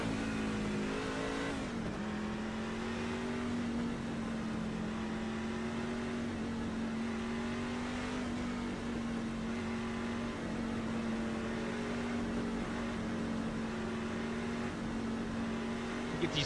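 A Chevrolet Silverado race truck engine from iRacing drones steadily around Phoenix, loud and continuous, with a sustained engine tone that holds for the whole stretch and shifts only slightly in pitch.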